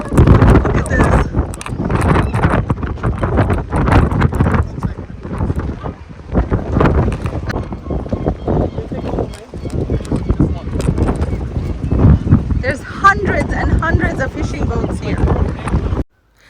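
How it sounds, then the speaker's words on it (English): Heavy wind buffets the microphone outdoors in Essaouira, a constant loud rumbling roar that swamps everything for about sixteen seconds before cutting off abruptly. "you couldn't hear a thing on the audio because the wind was so much"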